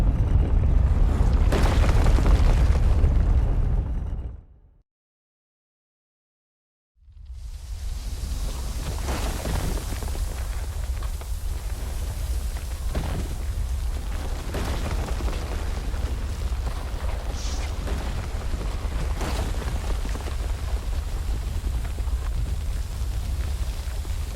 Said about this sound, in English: The temple is collapsing!